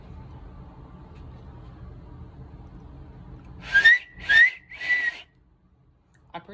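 Three loud, sharp finger whistles, made with the tongue held flat down, ring out in quick succession after a stretch of low background rumble, each a piercing high note with a brief rising start.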